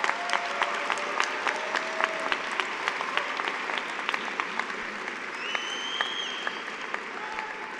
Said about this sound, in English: Students, let's give your parents a round of applause today.